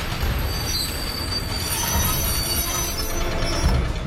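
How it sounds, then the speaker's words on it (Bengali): A train's wheels screech with loud metallic squealing as it grinds along the rails, a harsh continuous sound effect with ratcheting clatter, close and unbroken by speech. "কথাটা না ফুরোতেই ট্রেনের সামনের দিক থেকে বিকট ধাতব আওয়াজ হলো।"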